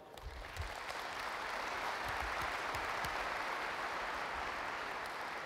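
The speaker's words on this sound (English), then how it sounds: "Let's give a big round of applause for Lichtblick." An audience at a large technology conference general session in Berlin applauds steadily for several seconds, a dense, even wash of clapping heard from within the hall.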